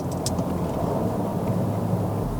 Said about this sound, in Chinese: 它的低转的时候，你会 feel 到它的 bass 哦，三缸的这个感觉又体现出来哦